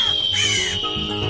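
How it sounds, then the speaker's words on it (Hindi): Crows caw loudly and close by, harsh rasping calls overlapping in a short burst, with a sharp squawk standing out, and no talk over them. "कौवे चीलों से लड़ रहे थे।"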